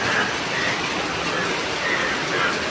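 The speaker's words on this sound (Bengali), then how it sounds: "আমাদের এখানে আজকে কি মুষলধারে বৃষ্টি হচ্ছে" Heavy rain pours down outdoors as a steady, dense hiss with no breaks or other sounds.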